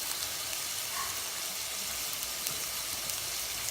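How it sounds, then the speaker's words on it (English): Onions sizzling in olive oil and butter in a hot pan, a steady, even hiss and crackle throughout, close and alone. "I got my onions, I'm gonna drop them right in there."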